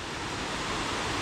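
Rushing water at the Khlong Nam Lai waterfall on a rainy day, a dense, constant broadband roar with no breaks, heard steadily and fairly close.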